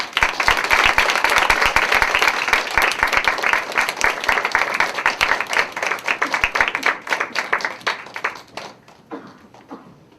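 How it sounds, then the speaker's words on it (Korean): Welcoming applause from a church congregation as an ambassador comes forward, many hands clapping loudly and steadily, thinning into scattered claps and fading out over the last few seconds. "우리 대사님 나오실 때 우리 같이 주님 안에서 환영의 박수로 맞이하도록 하겠습니다"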